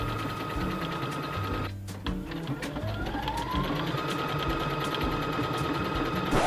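A sewing machine stitches button shanks onto a handmade jacket, its motor whirring in a steady rapid run, pausing briefly, then whining back up to speed, close and loud, no voices.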